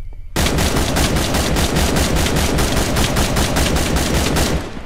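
A video game gun fires a rapid, evenly spaced burst of about twenty close, loud shots with no pauses, cutting off at the end.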